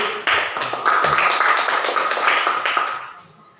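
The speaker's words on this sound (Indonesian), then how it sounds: "tepuk tangan untuk kelompok 2 dan kelompok 1" Elementary school pupils in a classroom clap for their classmates' groups, a short bright patter of hand claps that starts abruptly and fades out within a few seconds.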